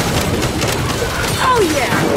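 Frag grenade going off in Gears of War 5 amid combat: a short burst of booming blasts and rattling gunfire, loud and close, blended with game noise and faint voices.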